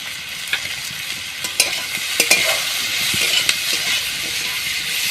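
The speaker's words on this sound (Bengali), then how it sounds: "আমি একসাথে ভালোভাবে মাখিয়ে নেব।" Wet squelching and stirring from fish being hand-mixed with turmeric, chili powder and salt for a village-style fish chorchori, a steady close smacking texture with scattered sharp clicks and no voices.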